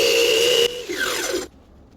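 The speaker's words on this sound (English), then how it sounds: "Now I'm just doing a plunge cut for my straights with the table saw" A table saw makes a plunge cut in wood for a rustic door, with a loud steady whine that shifts pitch partway through and then winds down before the clip ends.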